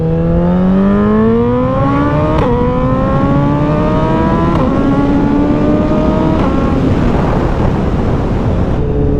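A 2024 Suzuki Hayabusa Anniversary Edition motorcycle roaring loudly while ridden, its engine note climbing steadily through each gear and dipping briefly at three quick shifts.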